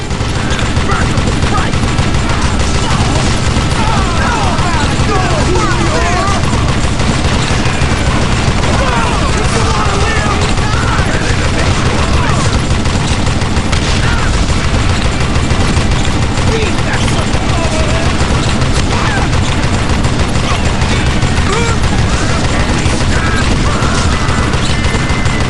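Gunfire in the Western shooter game Call of Juarez: Gunslinger, continuous loud rapid shots and crashes packed densely throughout, with a voice talking over the action.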